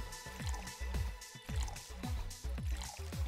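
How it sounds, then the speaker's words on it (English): A frothy water drink being mixed in the VA-11 HALL-A bartending game: quick, regular bursts of bubbly, dripping liquid sounds repeating in a steady rhythm, fairly close and alone. "Frothy water sounds weird"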